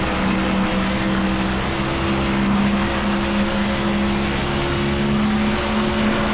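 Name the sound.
race cars passing in video game NASCAR Thunder 2004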